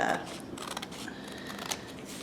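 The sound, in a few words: scissors cutting excess off a cross stitch card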